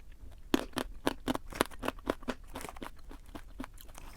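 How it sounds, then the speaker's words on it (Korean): Crunchy grain-and-onion flavored diet snack being chewed, a series of sharp, close crisp crunches in a quick irregular rhythm that fade into softer chewing. "이게 씹는 식감이 굉장히 바삭바삭해서 이거 괜찮다라는 생각이 드네요"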